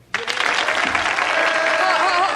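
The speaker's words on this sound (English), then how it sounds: "Hold the applause till I finish, please." A studio audience at a sketch comedy show bursts into loud, sustained applause that starts abruptly and holds steady, with a voice speaking over it.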